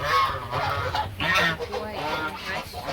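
Geese honk loudly and close by, repeated harsh nasal calls overlapping one another in a rural yard, with a voice faintly present beneath them.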